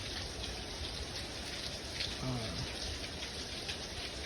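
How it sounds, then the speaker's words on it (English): Steady New Year's rain falling in a wet December-to-February climate, a constant soft patter and hiss with no pauses, fairly close and even in level, with nobody speaking. "It's starting to quiet down a little bit, but got New Year's rain."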